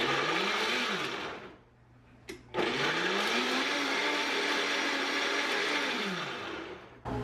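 Kitchen blender pulsed in two short bursts, its motor whirring loud and close, cutting out briefly between pulses before spinning up again.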